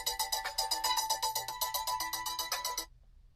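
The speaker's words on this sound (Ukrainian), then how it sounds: "Мені дзвонять." A mobile phone ringtone plays for an incoming call, a fast repeating electronic chime pattern, close and clear, which stops abruptly after about three seconds.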